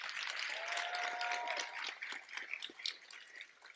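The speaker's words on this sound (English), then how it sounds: "Let's give them another round of applause." Audience applause at a high school JROTC awards ceremony, a dense crowd clapping steadily for a few seconds and then thinning to scattered claps by the end.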